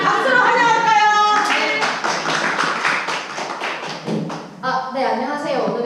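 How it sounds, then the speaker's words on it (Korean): An audience at a product-presentation party in a rented party room claps in welcome for a presenter, a dense patter of hand claps filling the middle of the moment, with voices talking before and after and partly over it. "자, 우리 박수로 환영할까요?"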